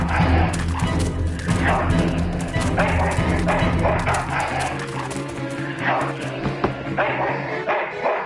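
A dog barks and yips in a busy, dense mix, with voices talking over the barking throughout.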